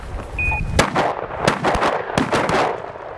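Shotgun blasts ring out during an upland bird hunt over a pointing setter, several sharp reports in quick succession outdoors, the loudest nearby, each with a short rumbling tail and no talk between them.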